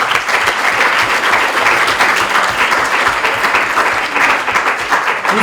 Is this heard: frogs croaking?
no